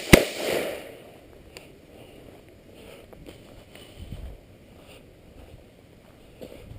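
A single sharp AR-15 pistol gunshot fired offhand at targets outdoors, loud and close at the start and then decaying, followed by faint handling noises and a softer thump.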